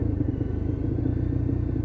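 Lexmoto LXR SE motorcycle engine, still being run in, revving steadily during a rev-matched downshift, a close, continuous low rumble with no talk.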